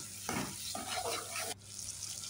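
A tablespoon of garlic paste hits a hot frying pan, giving a loud, close burst of sizzling that flares for about a second, then settles into a softer, steady fry.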